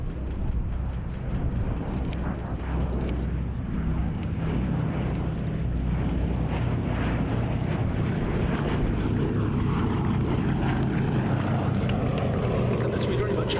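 A propeller aircraft drones steadily overhead at the Battle of Britain airshow at RAF Duxford, a loud, continuous engine roar filling the whole stretch, with voices faintly underneath.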